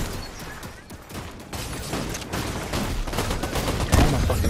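Turret fire in the Fortnite video game, a rapid stream of close, loud automatic gunshots that keeps going and builds toward a heavier burst near the end.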